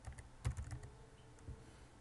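Keys tapped on a computer keyboard while a figure caption is typed into Word 2013, a quick close burst of clicks around the half-second mark, then a few sparser taps.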